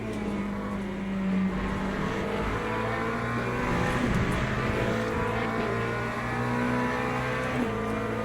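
A race car engine drones steadily in the endurance racing game Le Mans Ultimate, a sustained, fairly loud whine that rises and dips slightly with throttle and stays constant throughout.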